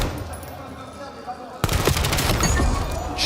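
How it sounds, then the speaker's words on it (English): Gunfire in Call of Duty Black Ops 7 during a competitive esports finals match, a sudden loud burst of shots beginning partway through and continuing densely after a quieter stretch of ambient game noise. "now he gets to show off his pistol shot"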